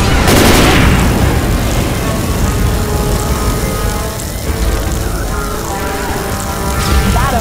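A gas can shot and exploding in the video game Left 4 Dead 2, a loud booming blast that opens the scene and rolls into a sustained roaring rumble of fire, with voices in the mix.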